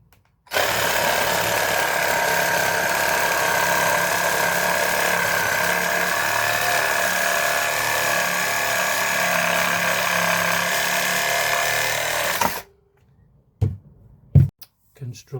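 Reciprocating saw fitted with a six TPI blade cutting through a piece of decking: a loud, steady buzzing rasp running for about twelve seconds, then stopping abruptly, followed by a few knocks.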